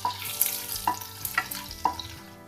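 Cumin, asafoetida, chopped ginger and green chilies fry in hot ghee with a soft sizzle, broken by a few sharp scrapes as a spoon stirs the pan up close.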